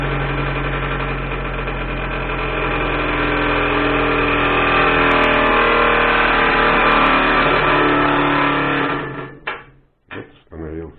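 A small electric motor salvaged from a cordless screwdriver spins a rotoverter, a steady loud whirring hum that holds for about nine seconds before winding down and stopping with a few stuttering bursts.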